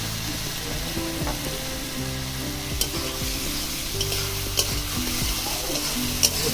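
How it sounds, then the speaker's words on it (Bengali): Spice paste with tomato frying and being stirred in a pan, a steady close sizzle with repeated scraping strokes and a few sharp clinks of the spoon against the pan. "মশলাটা ভালো করে কষিয়ে নিব।"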